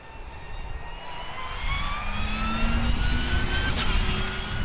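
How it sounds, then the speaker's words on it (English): A fully electric Formula E racing car passing with a rising, high-pitched electric whine over broad road and motor rumble, growing louder toward the end, with no voices. "this car produces a relatively high-pitched electric whine"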